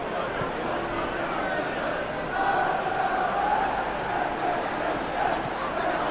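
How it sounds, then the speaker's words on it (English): A football stadium crowd at a Manchester derby between City and United makes a dense, continuous roar of voices and whistles, swelling slightly midway, heard from a distance and filling the whole scene. "Well, the crowd aren't happy."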